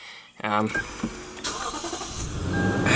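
A 2015 Lexus GX 460's 4.6 liter V8 engine cranks and catches at the start, then settles into a steady idle, with a person talking over the running motor.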